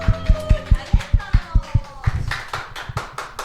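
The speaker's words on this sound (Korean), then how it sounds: "박수." Rhythmic group clapping from a church congregation keeps a steady beat alongside singing during a praise song, then breaks into looser, scattered claps and cheering as the song ends.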